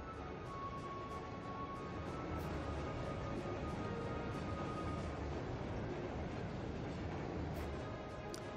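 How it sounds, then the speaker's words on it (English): Freight train from Barrier Heart carrying heavily armored tanks rumbles past in Trails of Cold Steel, a continuous low rolling clatter with faint metallic squeals, steady and moderately loud throughout. "It's a freight train from Barrier Heart."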